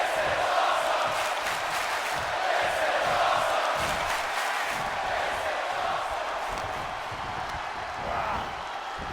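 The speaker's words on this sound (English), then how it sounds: "The crowd chanting, "This is awesome."" A wrestling crowd roars and chants in unison after a superplex off the top rope, a dense, sustained wall of voices with rhythmic shouted pulses, loud and unbroken throughout.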